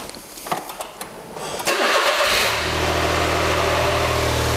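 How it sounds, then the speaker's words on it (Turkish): A car engine cranks briefly after some faint background noise, catches, and settles into a steady, loud idle that runs on close by. "Hazır maşını yondur ama."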